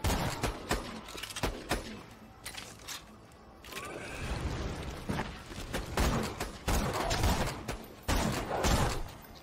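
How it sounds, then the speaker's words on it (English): Sniper rifle fire in a video game: a run of sharp, punchy shots at irregular intervals, some close and loud, over clattering mechanical game effects. "Really loving this sniper rifle."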